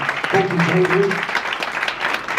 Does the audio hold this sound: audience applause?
yes